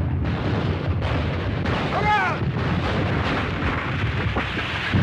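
Artillery fire in a World War II war film: dense, continuous rumbling blasts and booms with a whistling descending tone mid-way, loud and sustained under battle noise.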